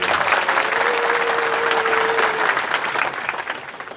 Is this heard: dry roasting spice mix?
no